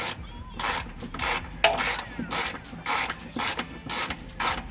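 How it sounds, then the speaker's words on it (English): Rhythmic ratchet clicks in short regular bursts as a wrench turns the bolt on a Mustang rear sway bar link, close and fairly loud, with no speech. "just start turning the bolt."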